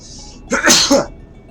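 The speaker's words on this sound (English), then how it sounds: "I'm going to sneeze in a minute." A single loud, close sneeze: a brief breathy intake followed by a sharp explosive burst.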